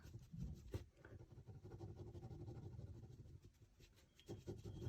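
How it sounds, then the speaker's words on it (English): A biro pen scratches zigzag marks across paper, a steady close rubbing scrape that varies with heavier and lighter pressure, quiet and continuous with no talking. "Biro is quite a nice drawing material. See, I'm drawing"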